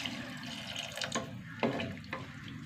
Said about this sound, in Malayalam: വെള്ളം ഒഴിച്ച് കൊടുക്കുക.